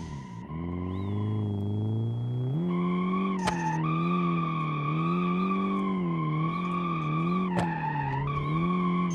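Loud, droning engine and exhaust roar from a drift car with a bottomed-out, damaged exhaust in BeamNG, harsh buzzing tone, rising in pitch as the car revs, punctuated by a couple of sharp clicks.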